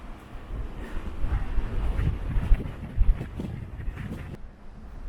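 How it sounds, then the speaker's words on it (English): Strong wind of about 40 mph at a coastal viewpoint in North Devon, a loud low rumbling roar buffeting the microphone in uneven gusts, with no talk. "it's extremely windy. I think we're experiencing what, 40-mile-an-hour winds?"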